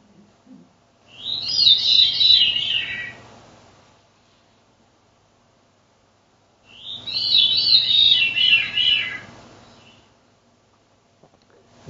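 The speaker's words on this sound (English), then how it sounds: "it's a one and a half note call that kind of says veery" Veery song, two separate phrases of the bird's descending, breezy swirling notes several seconds apart, moderately close against a quiet low background hum.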